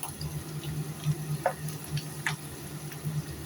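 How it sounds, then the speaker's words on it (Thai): Ingredients for a Thai mackerel chili paste stir-fry in oil, giving a steady low sizzle with scattered soft scraping taps of the spatula, close and moderately quiet throughout. "ผัดให้เหลืองกรอบ มันมัน มันจะออกเหลืองอ่ะนะไม่ถึงกับไหม้นะ"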